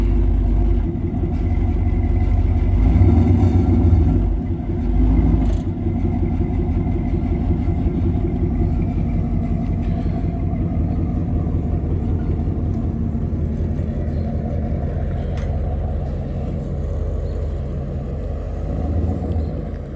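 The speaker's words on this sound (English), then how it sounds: "Man, I hate the truck leaving me," A sold pickup truck's engine rumbles low and steady as it pulls away, a continuous mid-pitched drone that swells briefly near the start and then holds fairly loud without voices.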